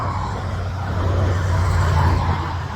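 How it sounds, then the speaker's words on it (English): A car engine makes a loud, rough rumble, low and continuous, swelling slightly midway before easing off, with no voices. "I really don't think cars are supposed to make that noise."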